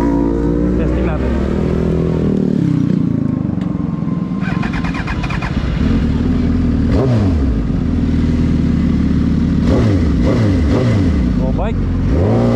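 A Suzuki GSX-R 1000 sport bike with no ABS or traction control revs loudly and continuously close by, its engine note rising and falling through repeated throttle blips.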